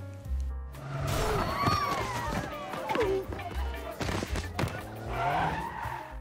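A Damri bus skids to a stop as it hits a man in a film chase scene: a loud, sustained tire squeal over rumbling vehicle noise, with shouts and tonal cries layered in and a heavy thud mid-scene.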